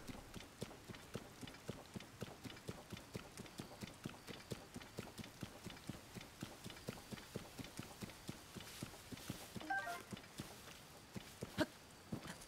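Hooves of a horse pulling a carriage in Zelda: Tears of the Kingdom clip-clop in a steady, even trot, a rapid run of light game-audio footfalls with no voices.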